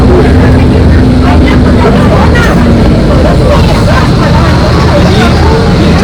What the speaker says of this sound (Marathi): हे आमचं एरोप्लेन आहे.